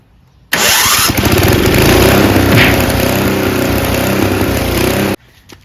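A Craftsman track drive snowblower engine starts abruptly and runs loud and steady at a fast, even putter for several seconds, then cuts off sharply near the end.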